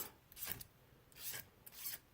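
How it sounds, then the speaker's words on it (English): A hand file rasps burrs off a custom hand-made tool in close, quiet strokes, with four distinct scraping passes separated by short pauses. "I'm also going to take the file across the tops"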